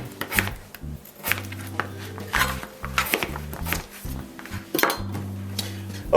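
Potatoes being cut into half-inch pieces on a board in a kitchen, with irregular knife taps and chops mixed with clinks of utensils, close and uneven, with a low hum running underneath.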